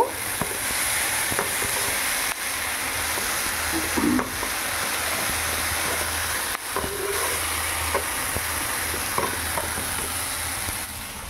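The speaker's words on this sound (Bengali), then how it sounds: "এতে সর্ষে আর আদা যে বাটাটা রেখেছিলাম এইটা দিয়ে দিলাম। দিয়ে এটা একটুখানি নেড়ে চেড়ে নেব।" A mustard and ginger paste being stirred in a frying pan, with a steady loud sizzle and hiss running throughout and a few soft scrapes of the spoon.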